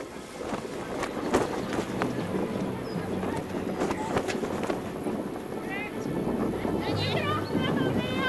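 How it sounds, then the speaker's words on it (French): Strong wind roars steadily outdoors at a yabusame horseback archery competition in Japan, a broad rushing noise with flapping and knocking as tent anchors are torn loose, while a voice talks over it. "Le vent arrache les ancrages des barnums installés pour la compétition."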